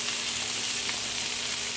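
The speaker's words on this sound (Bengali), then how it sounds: "ভালো করে নাড়িয়ে নেব।" Pointed gourd and prawns sizzling steadily in a pan with salt and turmeric, a continuous close hiss of frying oil, no talking.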